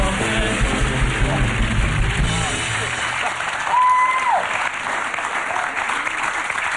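An event audience applauds loudly as Australian cricketer Shane Warne is welcomed on stage, a dense steady wash of clapping that fades partway through, with a brief cheer and voices underneath.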